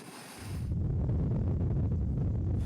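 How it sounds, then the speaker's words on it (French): A beach-cleaning machine sifting sand to remove tiny plastic particles, its steady mechanical rumble starting after a brief hiss and continuing loud and unbroken at close range. "Selon Chris Cross, ce nettoyeur de plage peut même aspirer des particules plastiques d'à peine 1 millimètre."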